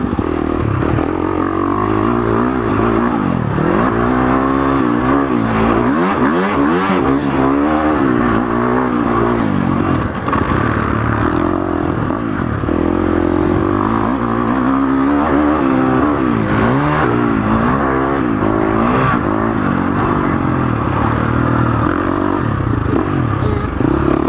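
A 2019 KTM 350 XCF dirt bike engine screams and revs around a motocross track, rising and falling with gear changes and throttle blips over a steady near roar, with clatter from the ride throughout.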